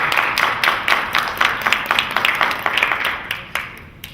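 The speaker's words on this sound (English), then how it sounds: "Round of applause, Brother Osiris." Scattered audience clapping for Brother Osiris at a live show, close and distinct individual claps in a fairly regular rhythm, thinning out and fading near the end.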